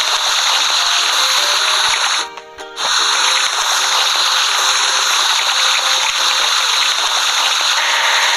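Steady, loud gushing water sprays continuously while washing a house in a building video game, briefly cutting out for a moment before resuming.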